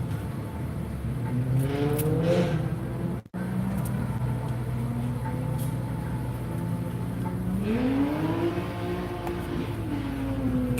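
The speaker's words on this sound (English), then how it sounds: "Guy's redlining the hell out of his car." A car engine revs hard toward redline at some distance, rising in two long surges over a steady background rumble, with no talking.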